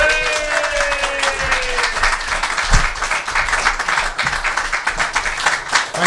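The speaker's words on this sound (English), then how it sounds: "just give him a massive round of applause" Audience applause for poet Michael Holme at a live National Poetry Day reading, a dense, steady patter of many hands clapping that carries on for several seconds in a room.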